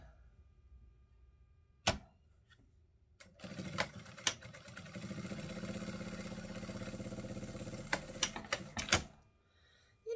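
A sewing machine stitches down the center of a folded oven mitt, opening with a sharp click, then a steady close mechanical whirring run punctuated by clacks, ending in a few loud knocks before stopping.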